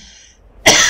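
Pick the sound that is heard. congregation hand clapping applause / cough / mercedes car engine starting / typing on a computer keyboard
cough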